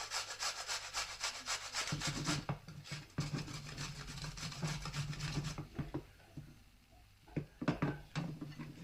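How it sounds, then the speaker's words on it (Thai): Jicama and carrot rubbed against a fine grater into thin shreds, a steady rasping scrape repeated in quick strokes with brief pauses, close and fairly loud. "ถ้ามีใครมีเครื่องขูด ขูดไปเลยค่ะ ขูดเส้นเล็กๆนะคะ"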